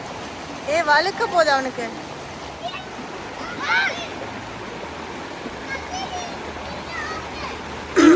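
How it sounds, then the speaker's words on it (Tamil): Stream water flows steadily with light splashing, a constant rushing bed under children's and adults' chatter that rises and falls throughout. "தண்ணி ஓடி வர்றதை பார்க்கவே நல்லா இருக்கு பாருங்க"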